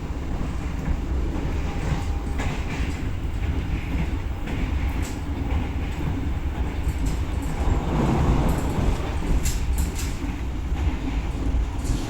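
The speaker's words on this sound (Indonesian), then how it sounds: "Kereta api Kamandaka akan tiba di stasiun Semarang Poncol ya" The Kamandaka passenger train runs on rails in Indonesia, a steady loud rumble from inside the carriage with faint clicking wheel beats and occasional light squeaks throughout.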